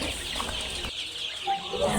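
Tiger chicken chicks cluck and chirp softly in the background, a brief busy murmur without talking.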